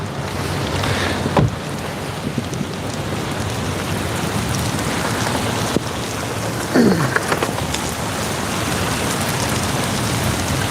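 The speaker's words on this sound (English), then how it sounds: "It started raining again." Heavy rain from a Southern gully-washer flash flood, a steady dense hiss of drops pattering on water and surfaces, constant and close, with a brief tonal squeak partway through and no talk.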